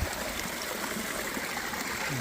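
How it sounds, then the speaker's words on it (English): Creek water gurgles and trickles steadily as a hat is soaked in it on a hot day along the Pacific Crest Trail, a close, continuous rushing flow with no talk. "Take my Tilly hat, soak it in the water,"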